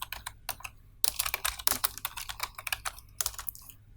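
Close, rapid typing on a computer keyboard while renaming a track in Cinema 4D: a brief burst of keystrokes, a short pause, then a dense run of crisp clicks in uneven bursts, with no voices.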